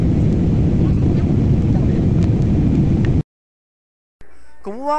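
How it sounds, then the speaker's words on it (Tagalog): A loud, steady engine roar drones for about three seconds, then cuts off abruptly; after a short silence a voice begins speaking. "para maparinig sa inyo ang makina ng eroplanong ito at ang lakas na maririnig natin"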